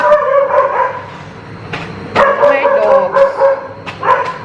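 Several dogs bark in short, sharp bursts scattered through the stretch, close by and fairly loud, with bits of talk blending in among the barks.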